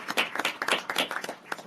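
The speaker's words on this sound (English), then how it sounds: "there's no reason why we can't give him a nice big round of applause" A city council meeting audience claps in a short, fairly quiet burst, with a scatter of individual hand claps over a little under two seconds.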